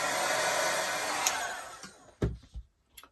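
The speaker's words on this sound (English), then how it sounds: "I'll just give this a little bit of a help with the heat gun" A heat gun blows steadily over a mixed media art journal page for about two seconds, a loud continuous airy roar that cuts off, followed by a few scattered clunks and knocks on the work surface.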